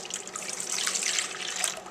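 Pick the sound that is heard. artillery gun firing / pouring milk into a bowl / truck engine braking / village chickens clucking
pouring milk into a bowl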